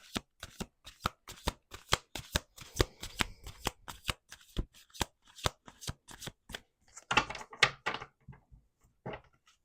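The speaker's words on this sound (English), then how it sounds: "Let's do 2 more shuffles." Tarot cards are riffled and bridged in rapid bursts of crisp flutters and taps, a steady rhythmic shuffling close up, ending with a few looser slaps.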